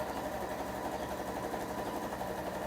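A sewing machine runs steadily while stitching the fabric seams of a book-shaped cushion, a continuous close whirring hum with a fast mechanical pulse that stays level throughout and has no talk over it.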